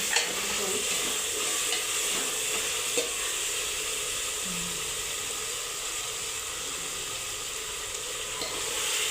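Finely chopped ingredients, a base for a spicy goat mutton curry, fry in a pan with a continuous moderate sizzle and occasional faint scrapes of stirring, no voices.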